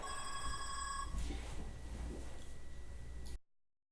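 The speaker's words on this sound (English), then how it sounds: "Wait a second, my phone rings." A telephone rings once during a live morning trading session: a brief, bright electronic ring over faint room noise, then a stretch of quiet before it cuts off.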